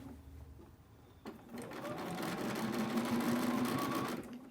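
Sewing machine stitching the seam of a scrub cap, starting after a quiet moment and running as a steady, continuous mechanical whir for several seconds, close and fairly loud, with no talking.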